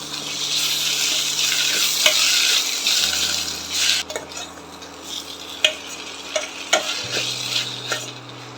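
Chopped tomatoes sizzle and crackle steadily in a hot pan while a spoon scrapes and stirs, with occasional clinks against the pan.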